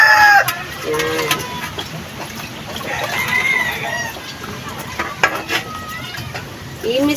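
Chickens clucking in a rural home yard, with scattered calls and a rooster crowing over steady background noise; people talk nearby and dishes are handled.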